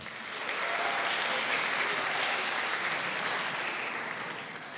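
A club comedy audience breaks into broad, steady applause that swells in quickly, holds as a dense wash of clapping and eases slightly at the end.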